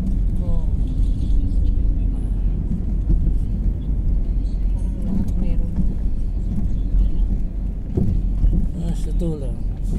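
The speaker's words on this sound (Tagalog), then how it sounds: "Ang daming taxi dito lumadaan." Busy street traffic with taxis passing, a low continuous engine rumble and drone close by, while people talk over it throughout.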